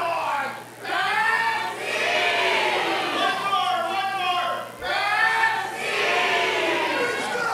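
A capacity crowd at a wrestling arena roars and cheers in a broad, sustained swell that dips briefly twice, with a commentator's voice running over the noise.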